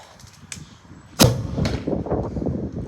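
A homemade potato cannon, fuelled with a sprayed shot of isopropyl alcohol, fires with one sharp, loud blast after a few faint clicks, then people react loudly in the background.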